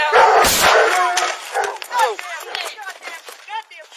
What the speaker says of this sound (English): Did my dog get out?